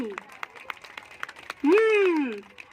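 Scattered clapping from an audience at a children's festival in Pune with a puppet show, a rapid patter of claps for about a second and a half before a loud, drawn-out voice cuts in and dominates.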